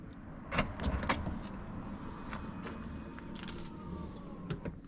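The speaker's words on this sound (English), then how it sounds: "Superb, an electronic tailgate." The electric tailgate of an Audi S4 Avant B8 whirs steadily as it opens, with a few clicks and clunks at the start, close by and moderately quiet.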